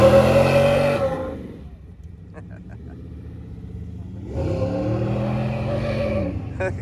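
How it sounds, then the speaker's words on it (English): Cars cruise past at Gainesville Raceway during Sick Week, their engines rumbling and revving loudly up close at the start and again near the end, with a quieter stretch of distant engine hum in between. "Get all these awesome cars going by."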